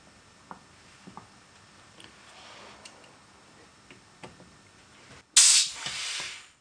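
Compressed air supplied to an Alfa Laval aseptic single seat valve actuator during maintenance, a sudden loud close hiss bursting in near the end after quiet ticking and light handling clicks.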